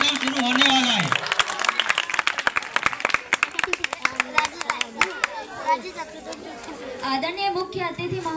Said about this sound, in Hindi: जोरदार तालियां बजा दिए क्योंकि अब कार्यक्रम शुरू होने वाला है